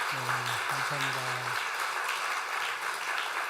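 At a children's Sunday service in a church in Samcheok, the congregation claps steadily to welcome newly registered members. A voice speaks briefly over the start of the applause, which continues evenly throughout.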